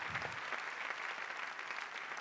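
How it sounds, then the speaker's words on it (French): Audience applause during an opening ceremony, a steady, fairly soft wash of many hands clapping throughout, with no voices over it. "Merci d'applaudir les femmes battantes"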